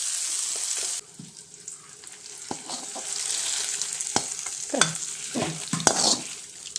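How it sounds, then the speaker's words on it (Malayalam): Fried onion-tomato masala is stirred into beef curry in a pot: a strong hiss cuts off abruptly, followed by a softer sizzle and a series of close, wet scraping and clattering stirring strokes, with no voices. "ഈ പരുവത്തിൽ നമുക്കത് ഇറച്ചിയിലോട്ട് ചേർത്ത് കൊടുക്കാം"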